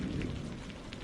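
Rain falls in a forest as a soft, steady patter, with a low thunder rumble faintly underneath and no voices.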